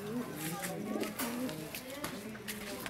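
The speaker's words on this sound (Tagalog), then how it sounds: "Ito pa po yung ating kalapate." Pigeons coo softly in low, repeated throaty calls, with someone talking over them in Tagalog.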